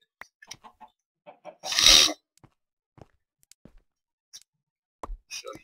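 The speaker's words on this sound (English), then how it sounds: "Chickens. Nice chicken." A single loud cluck burst from a Minecraft modpack chicken amid quiet, scattered small clicks and taps, with a brief clucking sound near the end.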